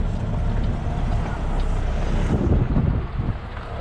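Strong wind roars steadily across the microphone outdoors, a loud continuous rumble with gusty swells and no clear voices.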